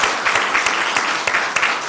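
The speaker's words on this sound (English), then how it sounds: "Don't stop clapping now." Audience at a city council meeting applauding a local school team's win: brisk, close clapping from a room of people, steady with sharper individual claps poking through.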